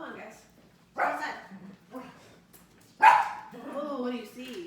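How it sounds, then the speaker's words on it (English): Indoor dogs give a couple of short barks and yips that stand out against a quiet room, with talk running between them. "They'll start barking."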